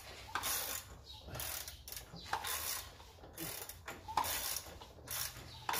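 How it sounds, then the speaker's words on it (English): An Audi engine with its spark plugs removed is cranked by hand, giving repeated ratcheting, clicking mechanical sounds in an uneven rhythm of turns, close and moderately loud, with no talking. "spinning this crank"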